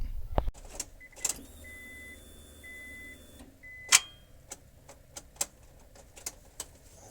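A 2000 Honda car with a weak battery: an electronic tone and short beeps sound first, then a sharp starter click, followed by several lighter scattered clicks in a quiet setting.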